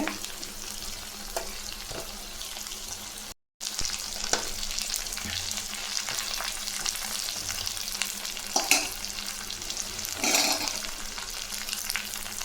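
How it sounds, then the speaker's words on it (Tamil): Drumstick leaves sauté in a pan with a continuous crackling sizzle and repeated stirring scrapes, close and steady throughout, with one brief dropout early on. "முருங்கைக்கீரை நல்லா வதக்கணுங்க"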